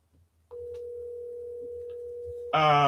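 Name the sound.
phone ringing on an outgoing call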